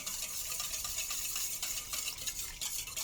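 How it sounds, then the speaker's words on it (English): A whisk stirs vinaigrette ingredients together in a bowl, a quiet continuous scraping and clinking close by with no voices. "We're just going to start to combine those. Whisk them up together."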